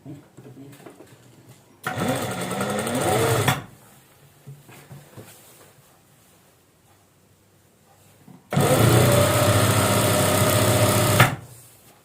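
A domestic sewing machine stitches cloth for a designer maxi dress in two loud, steady whirring runs of about two and four seconds, with quieter handling sounds between them.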